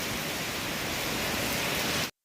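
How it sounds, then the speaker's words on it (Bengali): A machine pumping out rainwater that had flooded the ground gives off a steady, broadband rushing hiss, close and continuous for about two seconds before cutting off abruptly. "তা জল খালি করা মেশিন নিয়ে এসছে, ওই যে চলছে, জল খালি হচ্ছে।"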